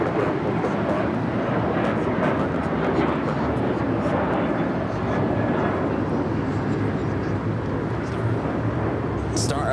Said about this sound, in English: Star Alliance livery on that United 737-800 heading to Vancouver, Canada.